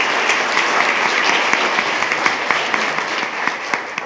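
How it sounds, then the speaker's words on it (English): A crowd at a school board meeting applauds steadily, a dense wash of many hands clapping at once, loud and sustained throughout. "Round of applause for Monroe."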